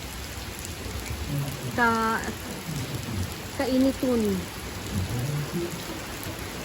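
Steady rain falls outdoors in a rural yard, a constant broadband hiss throughout, with chickens calling briefly in the middle and a voice speaking faintly under the downpour.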